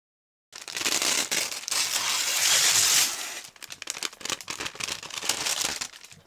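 Tracing paper torn away from sewn fabric, a loud continuous crinkling rip lasting a few seconds, followed by shorter crackly tearing bursts, close and alone.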